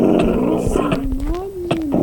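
A dog growls in the video game Minecraft, a low rumbling snarl with short yips and whimpers, heard close over game background noise.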